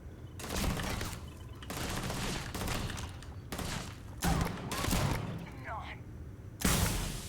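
Gunfire in the game Starfield comes in dense bursts of rapid shots separated by brief pauses, loud and close, ending with a sharp blast.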